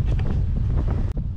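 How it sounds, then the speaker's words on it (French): Strong headwind buffets the microphone steadily for the whole stretch while riding a bicycle along the ViaRhôna EV17 cycle route toward Aigues-Mortes, a loud continuous roar with a brief dip near the end. "Maintenant, j'ai du vent de face."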